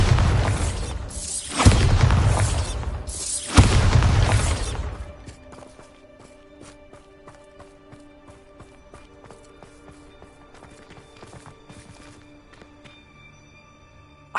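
A Bombarda spell erupts twice in Hogwarts Legacy on PS5, heavy loud blasts in quick succession, followed by a long, quiet, crackling tail of falling debris.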